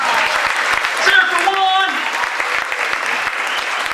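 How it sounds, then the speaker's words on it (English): Audience applause and cheering fill the room at a live variety performance, loud and steady throughout, with a performer's voice calling out over the clapping near the start. "How about a round of applause for Juan?"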